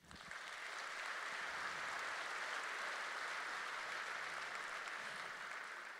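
Audience applause fills a large hall at a national conference gathering, steady dense clapping from many people that swells in quickly and holds evenly throughout with no voices over it.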